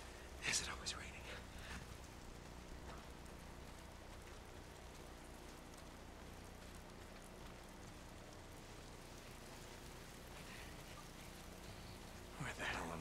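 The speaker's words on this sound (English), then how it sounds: "if it's not the freaks, it's the goddamn rain. Why is it always raining?" Steady rain falls in a video game, a soft continuous hiss of drops across the whole stretch, with a few brief louder sounds near the start and end.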